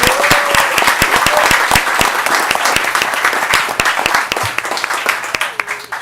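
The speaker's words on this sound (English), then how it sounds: "Round of applause for him." An audience at a regular commission meeting breaks into loud, sustained applause, dense clapping close by that thins out after a few seconds.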